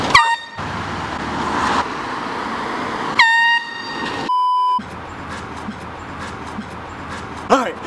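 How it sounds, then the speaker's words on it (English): An air horn is blown at two cars, giving two short, loud blaring blasts a few seconds apart, with another brief tone and outdoor background noise between them. "we're gonna be blowing air horn two times at two cars"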